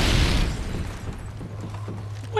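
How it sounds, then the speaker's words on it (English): A Predator missile strike in a video game lands as a deep, rumbling boom that fades into low debris rumble over a couple of seconds. "Friendly Predator missile inbound."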